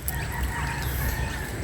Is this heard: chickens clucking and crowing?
yes